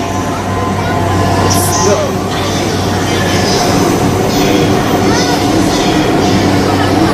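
A train in Tokyo, Japan rumbles steadily with constant rolling and rail noise, loud and close, while people talk over it.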